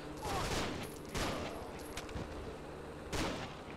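Gunfire in the Half-Life mod Heart of Evil, several loud bursts of shots at roughly one-second intervals against constant game noise, with someone talking over them.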